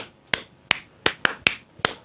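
Six sharp, separate hand claps at an uneven pace, close and crisp, each dying away quickly, during a clap yoga practice, with no talking.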